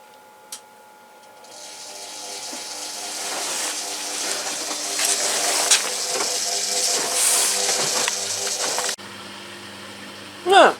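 A WD-420 washer dryer with a fault runs a drying cycle, giving a steady whooshing hiss and drum rumble for several seconds before it cuts off abruptly, with people talking throughout.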